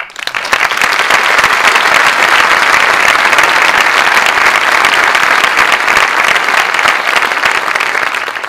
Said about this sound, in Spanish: os pedimos un aplauso para él, que es Antonio Mena.